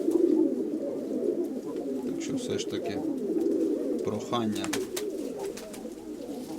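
Pigeons coo steadily and close by, with some wing flutters and brief calls, under continuous talking.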